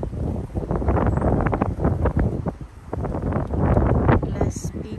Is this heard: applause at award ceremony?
no